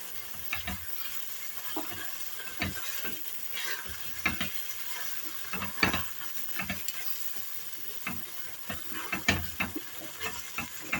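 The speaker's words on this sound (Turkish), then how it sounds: "Mercimeklerim güzelce kavruldu." Lentils sizzling and crackling as they roast in a pan, a steady soft hiss broken by irregular clicks and scrapes of stirring, close and fairly quiet.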